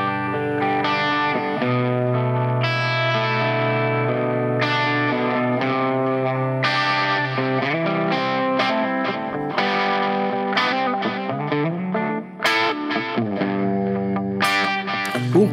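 An electric guitar plays a continuous chord-and-note passage through a 3D-printed Black Kat Devices Fox Drive overdrive pedal, giving a warm, moderately driven tone, loud and up close with no talking.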